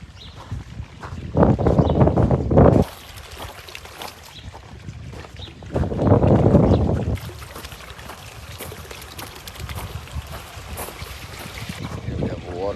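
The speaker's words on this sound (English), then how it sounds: "Here we have a waterfall." A small waterfall, only about 15 to 20 centimetres high, gives a steady outdoor rush of flowing water. Two louder surges of splashing or wind-like noise rise above it.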